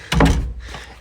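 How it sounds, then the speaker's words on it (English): A house door in Japan closes with a single solid thunk, followed by a softer settling knock, close by and brief. "Let me make sure the door closed."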